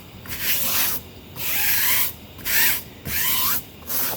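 A tire brush scrubs treatment into the sidewall of a car tire, several rhythmic bristly rubbing strokes close up with short pauses between them.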